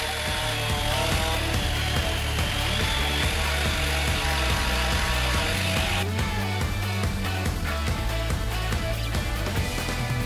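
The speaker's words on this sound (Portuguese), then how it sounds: "com a minha lixadora da Bosch" A Bosch electric sander working a wooden knife box with 210-grit sandpaper: a loud, continuous close buzzing drone with a rapid rhythmic rattle running through it, steady throughout with no speech.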